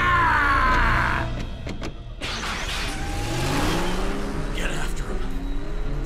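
A cartoon vehicle engine revving loudly in an animated robot show, a rising, throaty roar with whining pitch sweeps and a screech, mixed with voices speaking over it.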